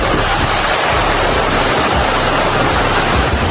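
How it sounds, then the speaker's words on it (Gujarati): Heavy rain pours during a long-distance motorcycle ride, a dense unbroken hiss that fills the clip, with a faint low engine rumble beneath and no talking. "ફૂલ વરસાદ આવે છે."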